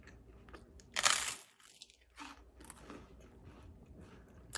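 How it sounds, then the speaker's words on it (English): Crunchy food bitten and chewed close to the mic during a pumpkin pie spice butter taste test, with a sharp loud crunch burst near the start followed by quieter chewing. "Am I crunching loud?"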